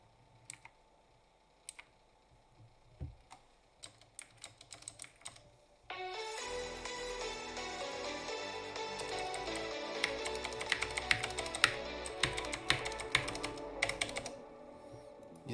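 Typing on a computer keyboard: sparse, quiet key clicks at first, then a burst of rapid, busier clacking with a steady backdrop of other sound, no talking.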